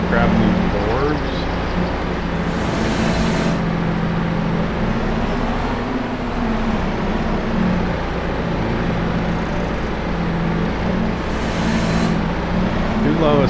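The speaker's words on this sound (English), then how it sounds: "Do love a skid steer." A skid steer loader engine running in Farming Simulator 25, a steady low droning hum held throughout at a constant level, with a person talking over it.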